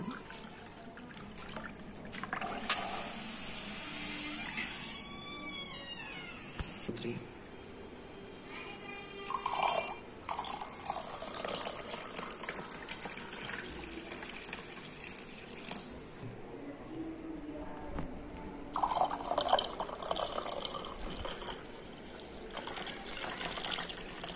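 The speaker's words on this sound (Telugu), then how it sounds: "సోడా లేదా వాటర్ పోసుకోవాలి. నేను వాటర్ పోస్తున్నాను." Water poured from a vessel into nannari sharbat with soaked sabja seeds, a trickling, splashing pour with some clinks and clatter, fairly close and moderately loud, with no talking.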